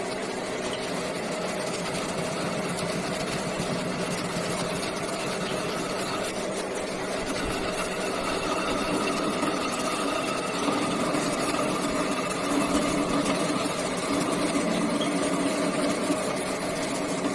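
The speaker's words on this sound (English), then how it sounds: "So now we are doing the facing operation in order to reduce the length of the workpiece." A lathe in a machine shop runs steadily while facing a workpiece to shorten its length, a constant mechanical hum and whine, close and unchanging with no voices.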